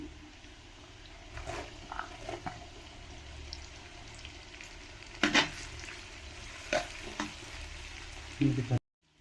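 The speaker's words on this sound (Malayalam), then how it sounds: "ഇതെല്ലാം കൂടെ നമുക്ക് വറുത്തെടുക്കാം" About 200 g each of chopped ginger and garlic fry in oil for Kerala-style fish pickle, a steady close sizzle broken by scraping stirs and clanks before stopping abruptly.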